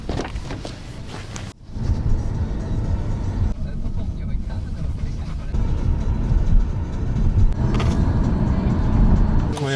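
Steady road rumble from inside a moving taxi in Poland, a low continuous engine and tyre drone that swells slightly, with a couple of faint clicks and some talk in the cabin.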